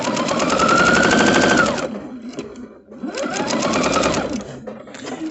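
A sewing machine stitches quilt fabric in two loud, rapid runs of even mechanical chatter. A short pause separates the runs as the fabric is guided through.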